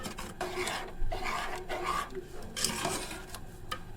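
A spoon stirs cornflour slurry into a pot of Karachi-style Kathiawari chickpea curry, giving a steady scraping, rasping rub against the pot in repeated strokes, close and fairly quiet, with no talking.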